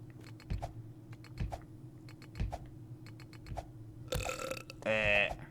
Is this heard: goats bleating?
no